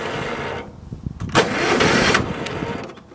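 A John Deere 130 lawn tractor with a 5-speed transmission and some surface rust cranks in a few choppy bursts, then its small engine catches and runs loud and close.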